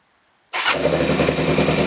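A Suzuki DRZ400E off-road motorcycle starts on the first try after a quiet moment, its engine catching abruptly and settling into a loud, steady, close idle.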